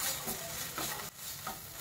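Spice paste sizzles and fries in hot oil while a spoon stirs it in steady scraping strokes, a close, continuous crackle with no voices, cooking for a potato and pointed gourd curry.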